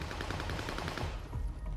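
Continuous automatic gunfire in Warzone, a dense, steady rattle of shots at moderate loudness, somewhat muffled and distant, with no talking.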